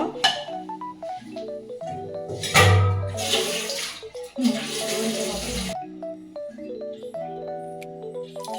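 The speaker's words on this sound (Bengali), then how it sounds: "তারপরে অল্প একটু পানি দিয়ে দিব।" Two rushing bursts of water being poured into a pan of cooking beef, each lasting a second or so, over steady background music.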